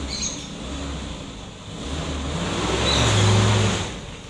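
A 1989 Toyota Kijang drives along and accelerates, its engine drone rising and swelling louder near the end, heard from close by with no talking.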